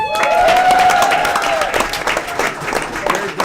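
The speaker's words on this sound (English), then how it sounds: "Let's give Edwin a round of applause." An audience at an arts program completion celebration applauds and cheers, with dense steady clapping throughout and a sustained whistle or shout near the start.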